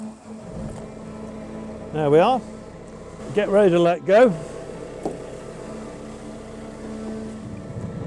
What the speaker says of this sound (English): gates are open, so we start our engine.